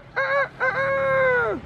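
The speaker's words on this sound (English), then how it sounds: "Hey, chickens everywhere." A couple of honking, squawking chicken calls up close on a street in Pattaya, Thailand, a short cry followed by a longer drawn-out one that bends downward at the end.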